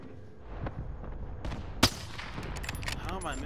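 Gunshots in a video game: a scatter of sharp cracks with one louder shot near the middle, heard through busy game noise and faint talk.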